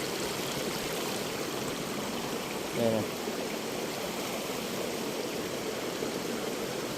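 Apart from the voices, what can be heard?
flowing stream water after rain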